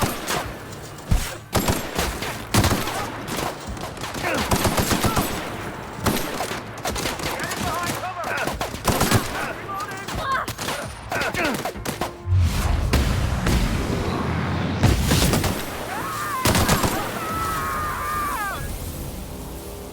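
Repeated gunfire from a gun in The Outer Worlds, dense bursts of shots and thumps through most of the stretch, loud and close, with occasional voices mixed in.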